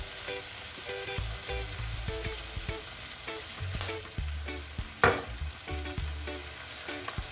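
Egg-fried rice with kielbasa sizzles in a hot pan after soy sauce and sesame oil go in, a close crackling fry under clattering utensil knocks and low thumps, with no speech.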